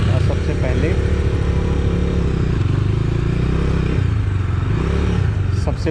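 A Bajaj Dominar 250 motorcycle rumbles steadily at close range as a ride begins, its low engine drone continuous and loud throughout, with a brief rise near the end.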